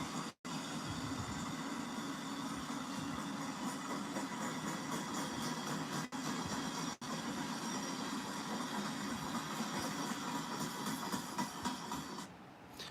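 A very long freight train, reportedly about two miles, rolls past at a distance, a continuous low rumble with rhythmic clatter of wheels over rail joints lasting the whole stretch and fading slightly at the end.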